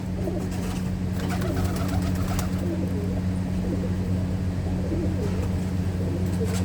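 Pet pigeons in a loft coo steadily in a low, continuous murmur close by, with faint chirps and some background noise throughout.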